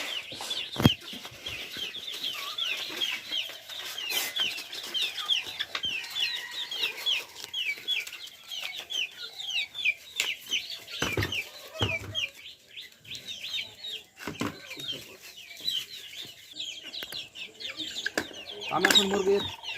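Farm chickens waiting for feed after a Gumboro vaccination cluck and chirp continuously in a dense flock chorus, with occasional sharp knocks and a louder call near the end.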